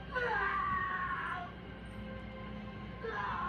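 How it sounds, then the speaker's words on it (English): A man screams in a movie scene: drawn-out, anguished wails at moderate loudness, two bursts separated by a lower, strained stretch over a steady background hum. "That scream is an innocent man"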